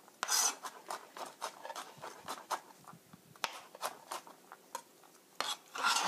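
A knife minces vegetables on a cutting board in a home kitchen while tofu with cream sauce is being prepared, giving quick irregular chopping taps that sit close and fairly soft against a quiet background.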